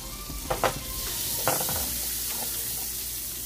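Chili pepper hits melted butter in a pan and sizzles steadily, with a few clinks and stirring knocks early on; the hiss stays close and continuous throughout.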